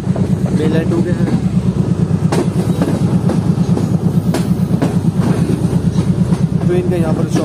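Hazara Express passenger train rolling past on the main line right in front, a loud, steady rumble with rhythmic clickety-clack of wheels over rail joints throughout, with a voice talking over it.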